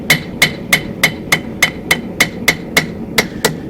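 Hammer flattening a forged metal feather, about a dozen sharp ringing metallic strikes in an even, steady rhythm, close and loud with no voices.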